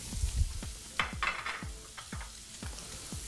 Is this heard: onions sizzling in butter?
yes